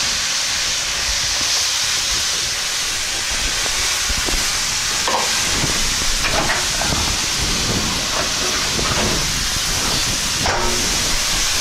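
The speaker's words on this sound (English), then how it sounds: "Now we're going to add our carrots and mushrooms" A steady, loud hiss of carrots and mushrooms sizzling in a hot stir-fry pan, with occasional clatters and scrapes of stirring.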